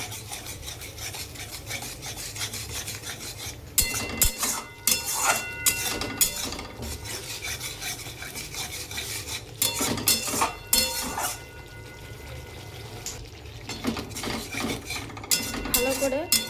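Ginger and green chili paste stirred into tomato masala in a pan: repeated scraping and rubbing of a metal spoon against the pan with occasional clinks, close and steady, no talking.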